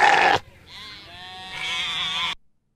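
A goat bleating in a played comedy clip, a loud nasal wavering cry that follows a brief burst of noise, drawn out for about two seconds before cutting off to silence.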